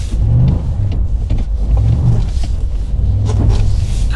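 Toyota GR Yaris accelerating hard in sport mode, its engine note rising as traction control intervenes, a loud continuous rumble with surging revs up close throughout.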